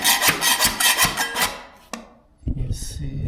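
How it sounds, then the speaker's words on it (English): A drywall knife scraping old flooring off a concrete slab, a series of rapid rough rasping strokes up close, then a pause and a sharp scrape before more grinding scrapes resume. "use the knife, drywall knife, and just scrape"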